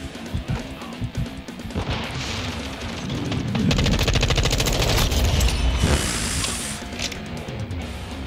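Continuous automatic gunfire from Call of Duty: Modern Warfare II multiplayer, a dense rapid rattle that builds and holds for several seconds amid layered game effects and explosions.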